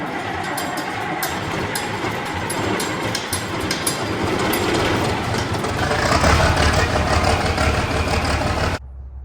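A heavy engine rumbles steadily after starting on a morning following a mild night, a loud low drone with mechanical rattle near the end before it cuts off abruptly.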